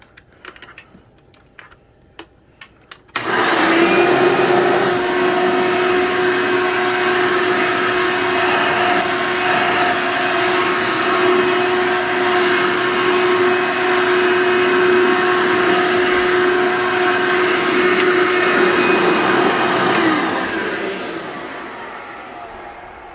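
A few faint clicks, then an Elite vacuum cleaner with a slightly worn fan switches on with a loud, steady whine and roar that runs for about seventeen seconds before shutting off.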